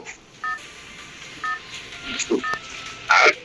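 Telephone keypad dialing tones: three short, evenly spaced beeps about a second apart, clear but modest in level over steady background noise and a few brief clicks.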